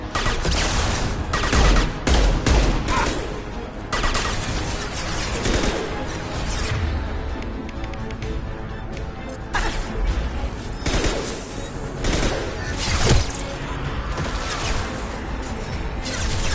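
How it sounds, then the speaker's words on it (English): An impact shot fires amid a firefight in Mass Effect 2, with loud repeated gunfire bursts, crashing impacts and whooshes layered over an intense, continuous battle din. "Firing an impact shot!"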